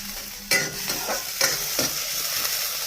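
Cumin, onion, chili and garlic hit hot oil in a pan, giving a close, loud steady sizzle with a few sharp stirring scrapes and clatters of a spoon, no voices.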